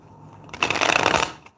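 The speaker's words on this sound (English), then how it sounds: "let me shuffle first this deck" A deck of tarot cards being shuffled by hand, a dense run of riffling card flutter lasting about a second, close and fairly loud after a quiet start.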